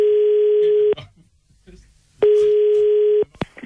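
Two long, steady telephone line tones of about a second each sound during a call, separated by a quiet gap with faint clicks and rustles, then a sharp click at the end.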